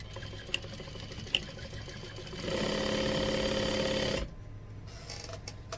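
A sewing machine runs one steady burst of stitching while binding is sewn onto a quilt, humming for a couple of seconds before stopping, with quieter handling noises before and after.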